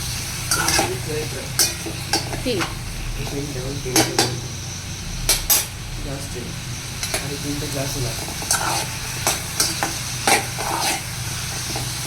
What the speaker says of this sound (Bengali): একটু নেড়ে নিই আমগুলো